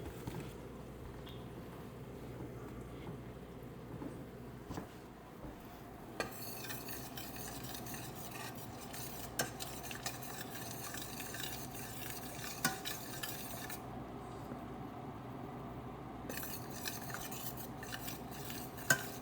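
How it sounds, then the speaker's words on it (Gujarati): Flour being stirred into hot ghee in a pan to make sukhdi, a soft ongoing scrape and shuffle of a spoon with occasional light metallic knocks and a faint sizzle, quiet and steady. "સો હું લોટ નાખું છું અને એક બાજુમાં આવી રીતનું મિક્સ કરતું જવાનું."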